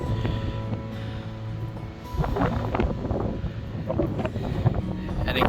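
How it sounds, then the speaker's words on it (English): Strong wind roars steadily through Monongahela National Forest in West Virginia, buffeting the microphone with loud, continuous gusts that swell and ebb over several seconds. "And incredibly windy also."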